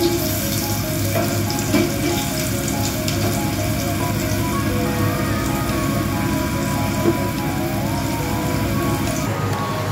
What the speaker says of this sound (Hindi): आलू जो है हल्के हल्के फ्राई हुए हैं और थोड़ा सा फ्राई कर लेती हूँ।